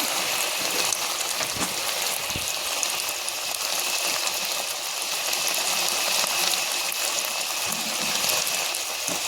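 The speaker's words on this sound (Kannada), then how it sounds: "ಸ್ವಲ್ಪ ಹೊತ್ತು ಎಣ್ಣೆಯಲ್ಲಿ ಫ್ರೈ ಮಾಡಬೇಕು" Food frying in hot oil makes a steady, dense sizzle that stays fairly loud and even throughout, with no one speaking.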